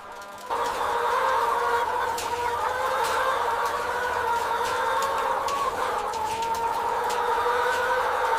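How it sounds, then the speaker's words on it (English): Adult white hens riding a conveyor into the laying house of a large poultry farm, a dense continuous flock chatter of clucks and calls over a steady mechanical hum, loud and unbroken. "A conveyor system moving adult white hens into the laying house."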